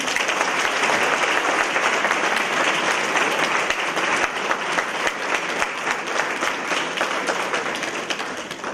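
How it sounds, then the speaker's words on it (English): A big, sustained round of applause from the audience at a college lecture, thick and continuous at full volume from start to finish without easing. "Again, can we have a huge round of applause?"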